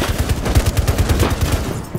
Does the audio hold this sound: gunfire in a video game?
yes